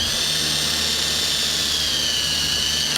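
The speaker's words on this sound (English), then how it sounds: "I'm trying to use the drill's weight to the benefit of me" A power drill runs steadily and loudly for the whole stretch, a continuous high whine with a constant motor drone beneath it while working on a Tony Tony Chopper build.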